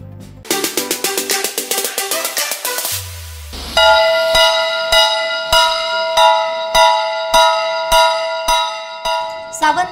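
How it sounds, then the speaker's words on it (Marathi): Bells rung at a railway station during an Independence Day bell-ringing protest, first a fast clattering of small bells, then a loud resonant bell struck in a steady, repeated rhythm, close and dominant. "सावंतवाडी रेल्वे स्थानकावर स्वातंत्र्य दिनी घंटानाद आंदोलन करण्यात आले"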